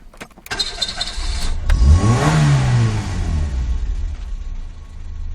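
A car engine is started cold after tuning and settles into running, a sharp crank and catch rising into a loud rev that eases down to a steady idle, close by with no voices.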